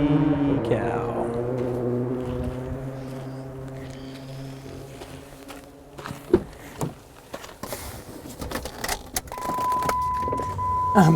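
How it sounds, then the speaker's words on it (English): Power windows of a parked car are raised, with a steady whirring motor hum toward the end. Scattered clunks, rattles and knocks come before it, and the car sits in a dusty outdoor spot. "I'm back here putting the windows up in our car"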